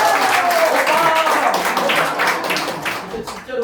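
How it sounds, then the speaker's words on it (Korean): An audience at a church gathering claps together, a dense burst of applause that stays strong and then gradually thins toward the end. "일단 가든 안 가든 박수"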